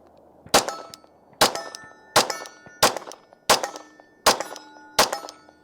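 Pistol fired with a Trijicon RMR red dot sight mounted, seven sharp, loud shots at a steady pace about one second apart, each with a metallic ring and brief echo, no talking.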